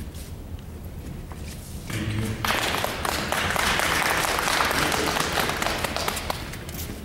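A district meeting audience breaks into applause that swells after a couple of seconds and keeps going as a dense, steady patter of clapping, close and fairly loud.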